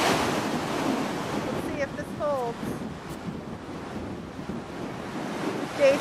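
Ocean waves washing up on a beach with steady surf wash and gusting wind buffeting the microphone, a faint distant call cutting through briefly, no clear talk.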